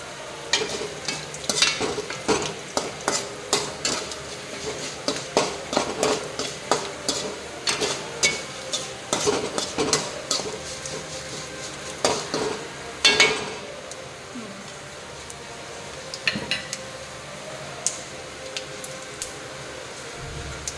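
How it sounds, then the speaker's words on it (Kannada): Mustard seeds and crushed garlic splutter in hot oil with rapid, uneven crackles and sharp pops over a soft sizzle. The popping is dense at first, then thins out toward the end. "ಸಾಸಿವೆ ಚಟಪಟ ಹೇಳ್ತಾ ಉಂಟು."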